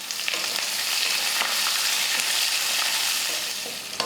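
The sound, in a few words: onion and curry leaves sautéing in a pan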